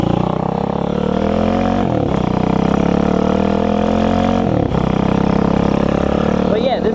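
A TaoTao 140cc Chinese dirt bike engine drones while riding, revving steadily with two quick dips as gears shift, close and fairly loud, with a voice talking over it.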